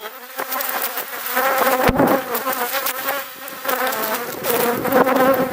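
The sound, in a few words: honeybees buzzing around an open beehive during inspection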